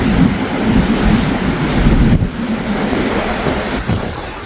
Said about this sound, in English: the sea breeze, the sea smell, the sea salt that is coming up with the wind